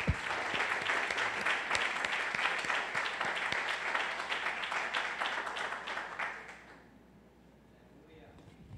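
A church congregation applauds during a Sunday worship service, with dense, sustained clapping for about six seconds that then fades to near silence.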